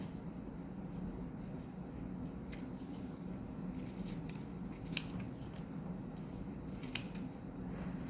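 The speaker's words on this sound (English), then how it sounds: "it's just a little bit easier for me to use my scissors and trim those up" Crisp scissor snips cutting paper, a couple of sharper cuts standing out against a quiet, steady background hum.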